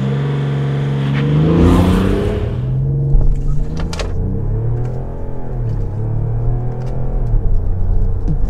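A diesel SUV engine, a 3.0 V6 TDI or six-cylinder 30d, accelerates hard in sport mode with the gearbox also in sport, its deep rumble rising and falling through gear changes, close and loud.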